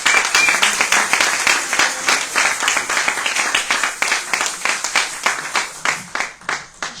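A church congregation applauds the Lord with sustained, fairly rhythmic clapping that fills the room, steady throughout and slightly thinning toward the end.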